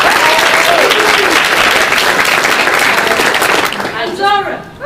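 Audience at a residents' award ceremony gives loud, close applause that stays full and steady for several seconds, with a few shouts or cheers rising above the clapping toward the end.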